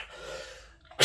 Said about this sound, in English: I didn't expect that, but a sneeze is a sneeze, right?